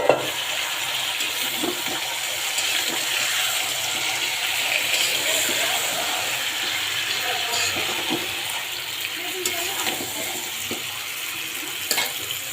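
Meat mix and lightly fried potatoes sizzle in a pan, a continuous hiss broken by scattered clinks and scraping from stirring, steady and moderately loud with no voices.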